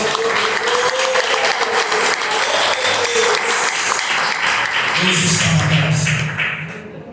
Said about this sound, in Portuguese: Bate palmas e adora.